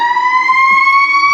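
An ambulance siren outside holds a loud, steady wailing tone for a moment, alone with no voices over it.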